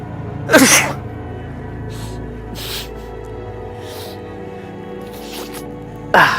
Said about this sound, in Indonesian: Aku jadi bersin-bersin nih.